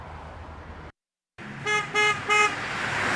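Passing cars honk at a United Auto Workers union march in Greater Cincinnati: after road noise and a brief dropout, three short horn toots sound in quick succession over steady traffic.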